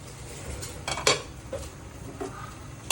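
A metal pot lid clanks and scrapes as it is lifted off a boiling pot of shrimp sinigang, giving a few sharp clinks spread over a few seconds against a low bubbling simmer.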